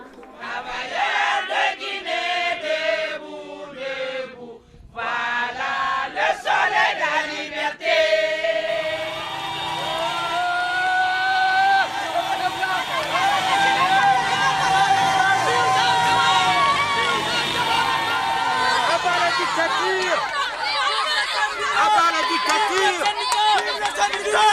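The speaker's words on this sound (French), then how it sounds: "La foule célèbre sa victoire ou bien la fin de son cauchemar" A large crowd in the streets of Conakry celebrating a political victory, a dense, continuous roar of many voices shouting and chanting, building to a sustained loud swell throughout.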